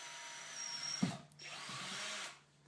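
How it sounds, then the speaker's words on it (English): A power drill with a panel bit bores a pilot hole into a stainless steel sink for a faucet, a steady whirring grind with a sharp catch partway through, then the motor spinning on before cutting off near the end. "using the panel drill bit, create a pilot hole in the area of where you want your faucet to go."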